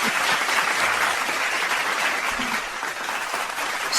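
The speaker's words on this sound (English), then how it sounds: "I'm gonna let them finish clapping." Sustained applause from a large audience, a dense wash of clapping that continues steadily throughout.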